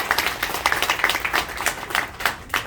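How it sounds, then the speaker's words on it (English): A small group at a wedding claps for the family, scattered hand claps in an uneven rhythm, fairly close and moderate in level with no talk. "So a big round of applause for Catherine and Douglas's family."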